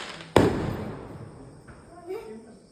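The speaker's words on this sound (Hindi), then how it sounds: "पटाखा ही फूट गया" A single firecracker bursts near a village house during the Bhai Dooj festival: one sharp, loud bang that decays quickly into a hiss, followed by faint, distant voices.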